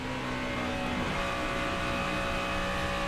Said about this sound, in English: We can hear just how little they're out of the throttle right there